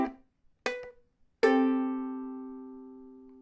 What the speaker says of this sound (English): We pluck that with our index finger, and we're strumming down on the bottom 3 strings with our thumb.